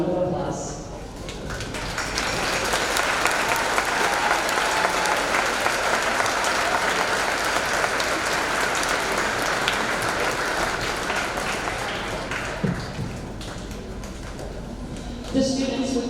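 A graduation audience at Pelican Rapids High School applauds honor students, a loud, full wash of clapping that swells after a brief voice and holds steadily for over ten seconds before tapering as speech resumes.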